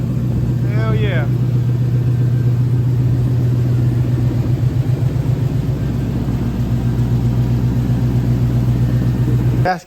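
A 1972 Chevrolet El Camino with an LS swap runs steadily on its newly welded exhaust, giving a loud continuous low rumble with a rhythmic pulse throughout. A brief voice comes through near the start.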